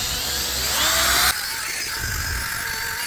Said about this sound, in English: add about half a bag before you start running the drill